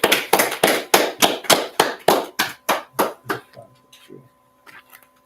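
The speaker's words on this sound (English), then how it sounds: "Clap it up." A group claps in slow unison at a gathering of the Israelite School of Universal Practical Knowledge, about a dozen loud, evenly spaced sharp claps that slow and fade, followed by faint murmurs.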